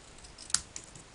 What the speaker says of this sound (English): I'm going to cut those in half.